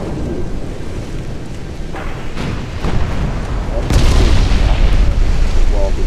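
A torpedo launched in a submarine game, a loud continuous rumble that swells in two stages into a heavy, booming blast, dense and close throughout.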